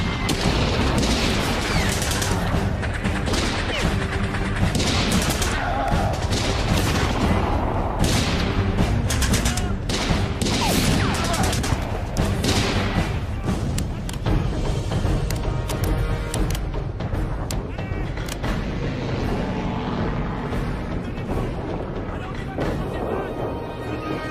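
A battle scene in a French-dubbed Russian action war film is filled with dense, loud gunfire: continuous rapid bursts and booming shots that go on throughout, with shouted voices mixed in.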